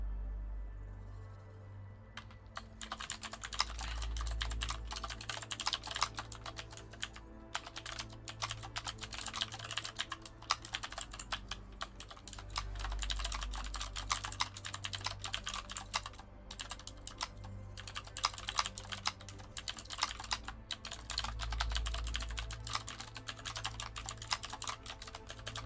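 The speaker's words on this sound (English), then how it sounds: "I apologize for the loud typing." Loud, rapid typing on a computer keyboard, a close and nearly continuous clatter of keystrokes over a low steady hum.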